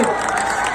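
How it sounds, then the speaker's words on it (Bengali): A crowd at a local India versus Bangladesh football match in Domkal, Murshidabad claps and cheers for the Bangladesh team, a dense, steady wash of applause with shouts mixed in throughout the short burst. "জোরে হাততালি হোক"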